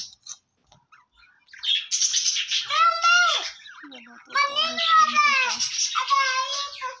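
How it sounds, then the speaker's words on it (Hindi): Parrots at a zoo let out a close run of bright, rising and falling chirps and squawks, several calls in quick succession with short pauses between them. "ये देखिए तोते।"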